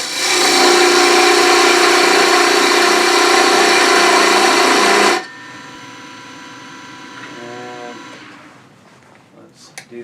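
Wood lathe running while a beading and parting tool cuts a wooden tool handle, a loud steady droning hum for about five seconds that drops to a quieter running tone, then fades with small clicks.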